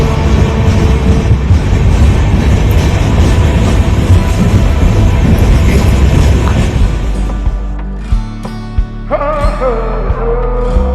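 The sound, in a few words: train passing a railway station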